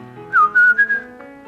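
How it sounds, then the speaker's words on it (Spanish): A person whistles to call family members, a quick sharp rising-then-level whistle in a few short bursts, clear and close against a quiet background. "el silbido con que él nos llamaba"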